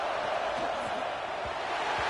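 Stadium crowd in College Football 26 during a Clemson game, a steady roar of thousands of fans filling the background while a commentator speaks over it.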